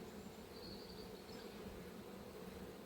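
Caucasian honey bees at an apiary hive give off a faint, steady droning buzz that holds without break, with no voices.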